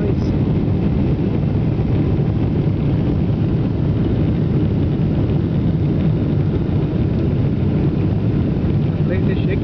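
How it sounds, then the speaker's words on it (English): Loud, steady jet engine roar fills the cabin of an Emirates airliner during takeoff from San Francisco, without pause, a dense low rumble with rushing air noise. "we are taking off from the ground. The jet engine is on now."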